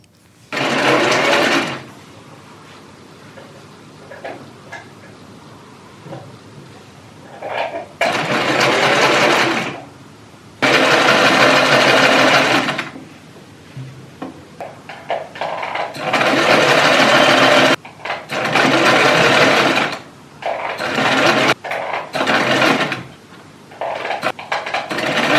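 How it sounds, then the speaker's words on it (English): A sewing machine fitted with a hemming foot stitches the bottom hem of a skirt in several loud, close bursts of steady whirring, separated by quiet pauses with faint handling sounds. "time to hem the bottom of the skirt. I think I'm gonna use for the first time these hemming foots."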